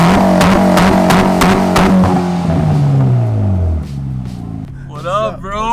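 Mitsubishi Evo X engine revving loudly up close, with rhythmic exhaust pulses and a falling engine tone as the revs drop, then voices speaking near the end.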